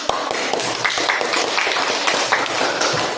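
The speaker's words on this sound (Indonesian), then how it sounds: "Tepuk tangan." A class of students clapping in a classroom, a dense burst of many hands applauding close by that lasts the whole moment.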